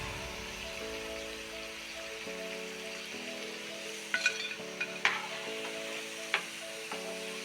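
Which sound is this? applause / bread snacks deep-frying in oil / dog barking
bread snacks deep-frying in oil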